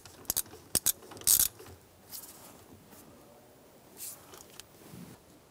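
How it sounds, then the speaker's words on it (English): Ratchet with a 15 mm socket snugging a lock nut on a 1997-2006 Jeep Wrangler shifter, a few short quick clicking bursts close up, then faint scattered clicks in a quiet room. "You want to just snug that lock nut down into place."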